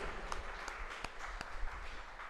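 Church congregation clapping hands together in praise, a soft, steady patter of applause with a few sharper individual claps standing out, fairly distant and low in level.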